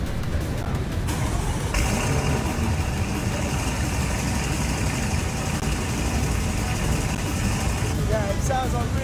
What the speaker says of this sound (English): It's a Lambo engine, what do you expect?